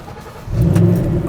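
A 2014 Shelby GT500 fitted with a large body kit cranks and fires up, and its low engine rumble swells abruptly into a loud, close, steady idle growl.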